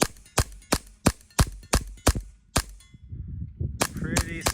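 SSP-5 airsoft pistol fired at a target about 40 feet away: eight sharp, evenly spaced snapping shots, then a short gap with low rustling and a faint voice before two more quick shots.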